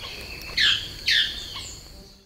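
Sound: song of a hybrid bird between rendeira and tangará manakins

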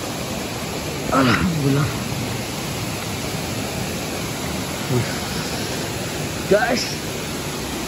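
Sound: Seulawah Dara waterfall in Aceh Besar

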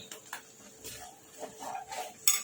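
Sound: stirring rice flour and semolina batter in a pot

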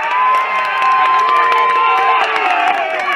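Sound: football fans cheering a goal

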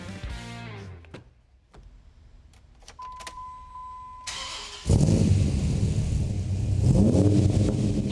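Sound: Ram SRT-10 truck engine starting and revving

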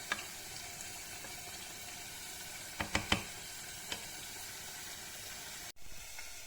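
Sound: rice being toasted in a pan

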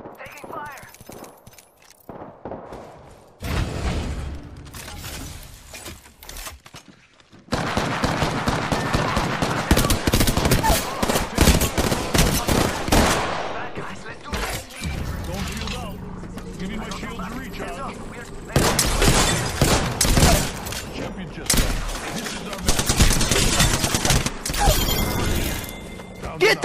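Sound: gunfire in the video game Apex Legends

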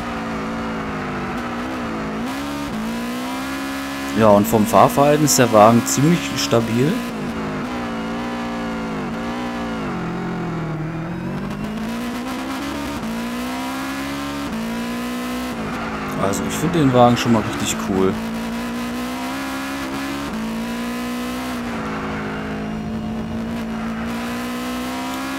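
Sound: Subaru Viziv GT engine sound in video game Gran Turismo 6

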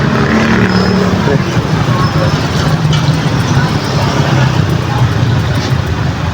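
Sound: motorcycle engine running, used for light during brownout

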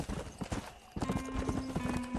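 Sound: horse clip-clopping and whinnying, from video game Red Dead Redemption

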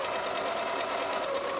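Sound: sewing machine stitching along a fabric tube

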